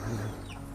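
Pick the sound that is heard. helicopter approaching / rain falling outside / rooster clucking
rooster clucking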